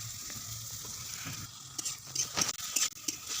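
Chopped onion and garlic frying in hot oil, a steady soft sizzle with occasional pops and scrapes, close and moderately quiet, with no talk.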